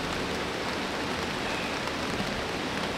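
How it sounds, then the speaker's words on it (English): Steady rain falls at a campsite beside a rushing river, a dense, even patter and hiss of drops on surfaces throughout with no pauses, close and moderately loud, and no voices. "Starting to rain."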